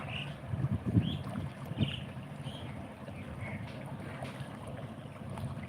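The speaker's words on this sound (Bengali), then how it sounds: "নৌকা" A boat passing on water, heard from a distance as a low rumbling drone under wind buffeting on the microphone, with a few faint higher calls or squeaks in the background and no talking.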